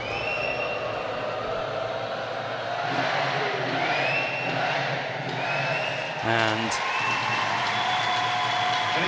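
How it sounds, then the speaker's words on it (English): An ice hockey arena crowd cheering and applauding as the Nottingham Panthers leave the ice after a win, a steady roar of the crowd with an announcer talking over it. "Panthers will leave the ice to the cheers of the crowd ringing in their ears"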